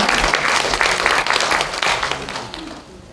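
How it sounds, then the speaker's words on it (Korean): An audience at the World Korean Women's Conference in a National Assembly conference hall applauds to welcome a guest, with dense, steady clapping throughout that eases slightly toward the end. "여러분 환영의 박수 부탁드립니다."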